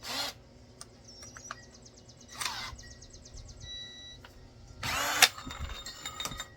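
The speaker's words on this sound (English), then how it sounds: "Let's get our hole saw put on here." A power drill fitted with a hole saw gives short whirring bursts of spinning up and stopping, with faint clicks and rattles between runs during a DIY chicken feeder build.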